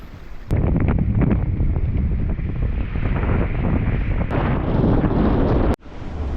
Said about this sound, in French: On va à 8-10 nœuds pour 15-20 nœuds de vent.